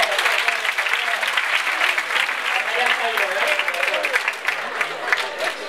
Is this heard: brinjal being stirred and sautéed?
no